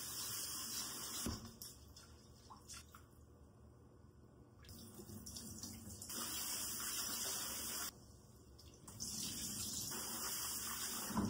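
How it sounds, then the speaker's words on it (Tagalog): Glutinous rice (malagkit) for biko is washed under a running tap, giving a faint, steady stream of water with soft splashing and swirling close by, and no talk. "Hugasan natin ang ating malagkit."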